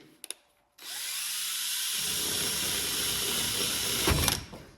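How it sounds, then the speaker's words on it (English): A power drill whirs steadily at close range for about three seconds, drilling into a car dashboard being cut to fit, starting after a couple of clicks and ending with a short grinding burst. "drill"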